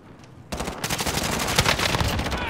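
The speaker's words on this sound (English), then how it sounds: "Oh shit! I'm taking fire." Rapid automatic gunfire in Call of Duty: Modern Warfare starts abruptly after a brief quiet moment, then keeps up as a loud, dense burst of overlapping shots to the end.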